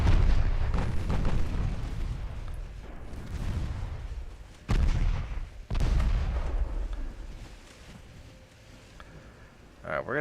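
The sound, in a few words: naval artillery fire in the video game Ultimate Admiral Dreadnoughts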